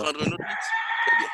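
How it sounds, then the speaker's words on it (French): A rooster crows once in a single drawn-out, rising-and-falling call, fairly clear and moderately loud, right after a man's brief speech over an online class connection. "Il y a un coq qui chante."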